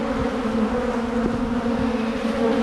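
Honeybees at a hive buzzing in a steady, continuous hum, close by and without pause.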